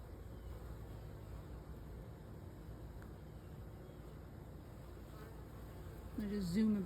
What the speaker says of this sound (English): They're just zooming by my head. I can just hear them coming.